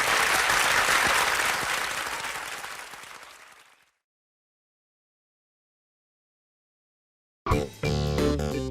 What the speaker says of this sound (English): The crowd shouts and cheers.